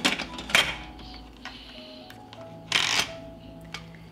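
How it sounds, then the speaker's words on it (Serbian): A pressure cooker lid being closed: a few sharp metallic clicks and knocks close by, then a louder rattling clunk as the lid seats, with no talking. "Zatvaram ekspres lonac"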